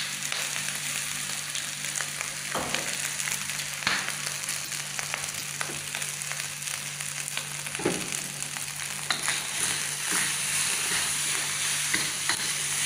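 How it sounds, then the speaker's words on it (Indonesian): Nasi goreng being stirred and fried in a pan, heard as a steady, loud sizzle with occasional spatula scrapes and taps spread through it, close up with no voices. "aduk terus ya guys"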